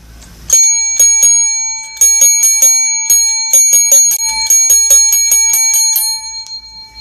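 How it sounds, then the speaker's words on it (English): A small bell rung repeatedly in quick irregular bursts, bright metallic dings with ringing overtones, close and loud with no other sounds. "I've even got a little bell."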